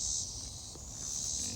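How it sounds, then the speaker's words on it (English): A steady high-pitched drone of cicadas buzzing in the afternoon over a pumpkin patch, continuous and fairly loud throughout, with no talk. "have to excuse those cicadas"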